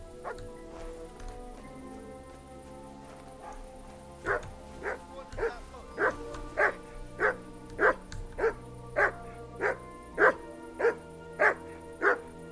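In Kingdom Come: Deliverance II, a dog's barking starts faint, then grows into a steady run of loud, evenly spaced barks close by.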